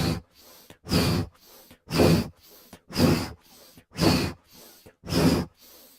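Slow, deep breaths repeat as loud, close whooshing inhales and exhales, about six in a steady rhythm, each separated by a short quiet pause.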